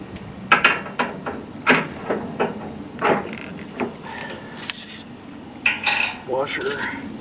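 A metal washer and clip clink and clatter while a wheel is assembled onto a Pit Boss 600PS1 smoker grill, a close series of sharp metallic taps and snaps with brief pauses between.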